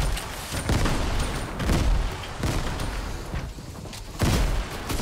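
Grenade blasts in a Fortnite match, several loud booming explosions spaced a second or two apart with scattered gunfire and clatter between them, no talking.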